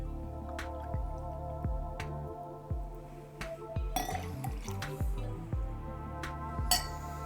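Milk, 45 ml, is poured into a cocktail of vodka and chocolate, with quiet liquid dribbling and a series of soft drips and light glassy clinks against a steady low hum.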